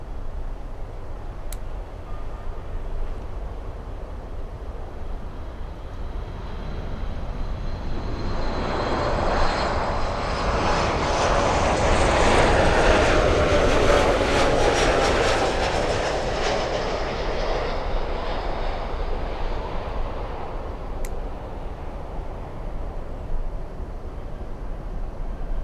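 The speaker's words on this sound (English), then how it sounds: "we have an American Airlines 737 flying in from San Pedro Sula" An American Airlines Boeing 737 jet flies in at Miami International Airport, its engine roar rising from a distant rumble to a loud broad whoosh as it passes near, then fading away over the steady airport background.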